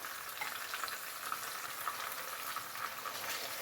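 Marinated chicken sizzles and crackles in hot oil, a steady, fairly quiet frying hiss with faint pops, heard up close with no talking.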